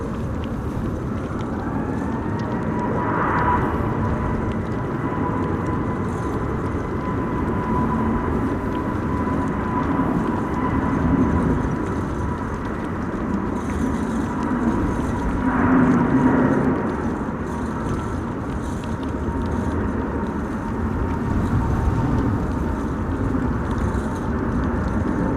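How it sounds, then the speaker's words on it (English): A KLM Airbus A321neo takes off from a windy Amsterdam Schiphol, its engine roar a steady, fairly distant rumble over broadband wind noise, with a rising whine and faint swells around the middle. "we have another KLM A321 Neo to Lisbon this time around"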